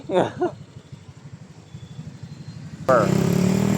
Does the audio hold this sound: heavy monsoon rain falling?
no